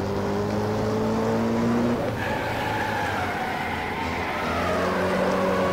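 A front-wheel-drive banger racing car from a UK-style banger mod in Wreckfest drones steadily and loudly, its engine pitch holding, then shifting around a gear change before climbing again, with no talking.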